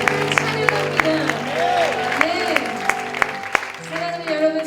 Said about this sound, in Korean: 다시 한번 큰 함성의 박수 주님 앞에 올려드리겠습니다